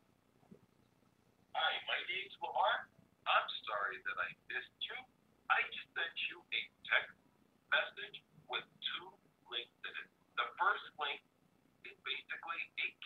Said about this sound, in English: So I'm going to dial that number right now.